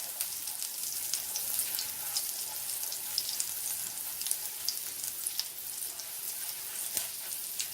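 Butter, about three tablespoons, melting and sizzling in a pan for steak and peppers, a steady fine crackle with scattered pops, moderately quiet and continuous with no talking.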